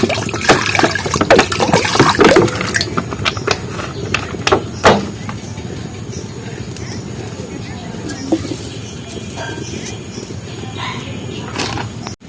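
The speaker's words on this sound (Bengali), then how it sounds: "এবার খানিকটা জল দিয়ে দেবো কড়ার মধ্যে" Water splashes and trickles into a wok, loud at first and then settling into a steady, softer pour.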